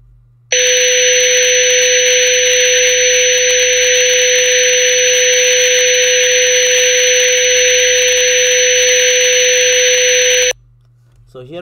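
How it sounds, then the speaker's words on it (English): A steady electronic test tone buried in broadband hiss begins abruptly, holds at a constant loud level for about ten seconds, then cuts off, leaving a faint low hum and a brief noise at the end. "you can understand that it is corrupted with noise"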